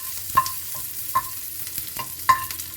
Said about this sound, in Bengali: আমি 3টে শুকনো লঙ্কা দিয়ে দিলাম ভাজতে।